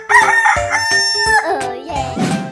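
A cartoon rooster crows a loud, close cock-a-doodle-doo over bouncy background music.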